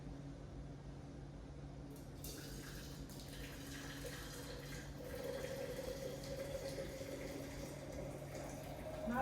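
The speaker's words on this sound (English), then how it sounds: "I'm just gonna use the lid and pour the water into a mason jar" Hot cacao water is poured from a pot past its lid into a mason jar, a soft, continuous trickling and splashing that grows a little fuller partway through, quiet and close with no talk.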